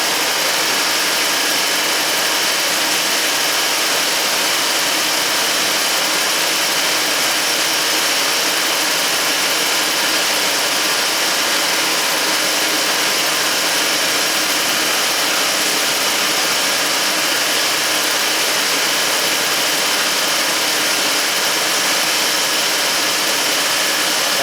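A car engine with a suspected random misfire and lack of power runs steadily at idle, a constant loud hum and whine without obvious stumbles and no talk.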